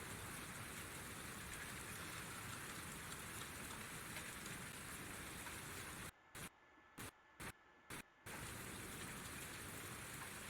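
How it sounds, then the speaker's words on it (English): Steady rain falls in Farming Simulator with the Seasons mod on PS4, a dense, even hiss that fills the scene and drops out in a few short gaps near the end. "But it is raining."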